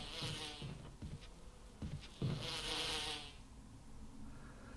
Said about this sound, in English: Little airplane bees.